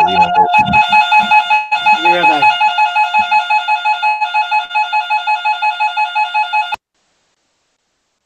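A weather radio sounds its loud, steady alert tone during tornado warning coverage in North and South Carolina, a continuous pulsing electronic tone that starts under brief speech and holds for about seven seconds before cutting off abruptly.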